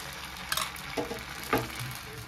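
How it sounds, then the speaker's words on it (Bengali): Rice-flour batter for thin chakli pitha is poured into a hot frying pan in a few quick pours, each bringing a short hiss and sizzle over a low steady background. "এবারে তৈরি করে রাখা গোলাটা অল্প অল্প করে দিয়ে দেবো"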